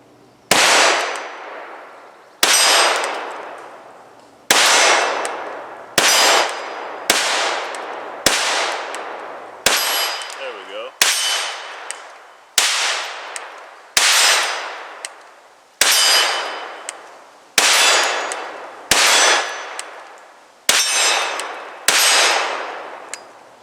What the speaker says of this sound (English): So we are going to be putting the Taurus TX22 through its paces.